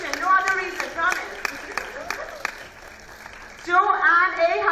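Scattered hand claps from an audience at a conference panel ring out under talking, a steady pattern of separate claps rather than full applause, while voices carry on over them.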